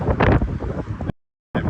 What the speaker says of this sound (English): It is super windy, yes.